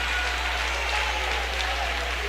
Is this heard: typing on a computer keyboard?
no